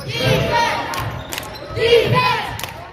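Younger siblings cheer and shout loudly in the stands at a junior high boys' basketball game, two swelling bursts of crowd noise with thumps from the court in between.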